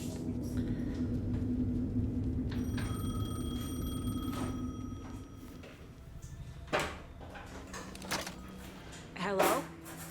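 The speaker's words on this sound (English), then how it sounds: "The payphone was ringing." A payphone ringing in the video game Alan Wake 2, a bright electronic ring over low ambient rumble, followed by a receiver being picked up with clunks and a voice speaking.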